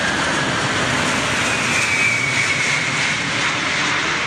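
The giant six-engine Antonov AN-225 cargo plane lands at Perth International Airport, a loud, sustained jet roar with a rising whine, unbroken throughout and without speech.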